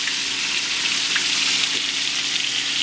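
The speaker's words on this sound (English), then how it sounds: "since the meat isn't that large or that thick, it's not going to take it long to sear off" Meat sears in a hot pan with a steady, close, bright sizzle and crackle that continues evenly with no voices.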